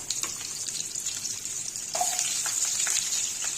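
Chopped ingredients frying in hot oil in a home kitchen pan for a vegetarian banana-flower curry, a steady close crackling sizzle that jumps louder partway through as more goes into the pan, with no talk.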